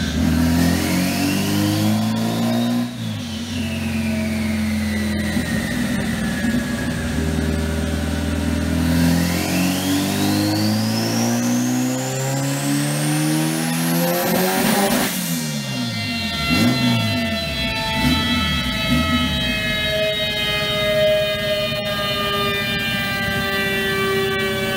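A 1998 Honda Civic with a turbocharged engine, making about 780 wheel horsepower, revs hard on a dyno. The loud engine note climbs and falls in repeated sweeps with a piercing turbo whine, continuous and close with no talk.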